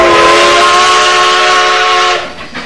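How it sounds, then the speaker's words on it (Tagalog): Departing train's steam whistle, one long loud sustained harmonic blast with hissing steam, close by, fading out near the end. "Malapit na umalis itong tren."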